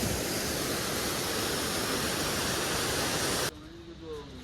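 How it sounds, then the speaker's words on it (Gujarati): Cold mountain stream water rushes loudly and steadily on the Kedarnath trek, a dense close roar that cuts off abruptly near the end, leaving quieter background. "મસ્ત પાણી જાય છે ભાઈ અહીંયા ઠંડુ ઠંડુ."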